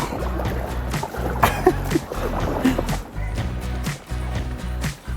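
Kayak paddling on calm water off the Bahamas, with rhythmic splashing and dripping strokes close by and a steady low rumble underneath, with no talk.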